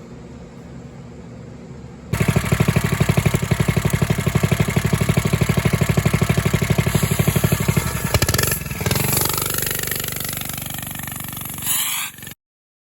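A small monkey bike engine starts after a quiet moment and idles loudly with a fast, steady chugging beat up close, then blips briefly with a short rev before cutting off abruptly.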